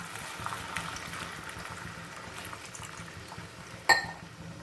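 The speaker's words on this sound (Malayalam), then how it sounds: "ഈ വെള്ളം ഇവിടെ നിന്ന് നല്ലതുപോലെ ഒന്ന് തിളച്ച് വരട്ടെ" Water simmering and bubbling in a pan for a Kerala-style coconut egg curry after sautéed onions, a steady low bubbling hiss throughout with a brief sharper clink near the end.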